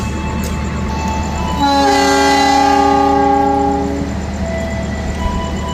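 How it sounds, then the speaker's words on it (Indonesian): The Bima passenger train pulls out of track 2 at a station, sounding one long, loud, harmonic horn blast lasting a couple of seconds over a constant engine rumble that carries on after the horn fades. "Ini Bima berangkat dari jalur 2"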